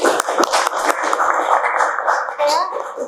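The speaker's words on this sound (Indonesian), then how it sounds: "tepuk tangan buat Mas Rehan." A classroom of students claps for a classmate during a maths lesson. There is a short burst of brisk, close clapping with some voices mixed in, and it fades toward the end.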